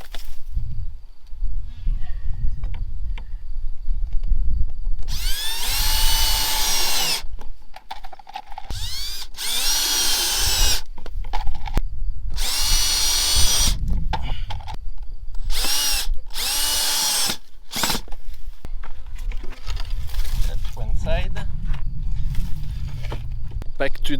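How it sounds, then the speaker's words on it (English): A power drill driving screws into door hinges, several loud whirring bursts of a few seconds each with rattles and handling noise between them, close up, and a voice speaking at times. "So I'm going to screw the hinges on that side"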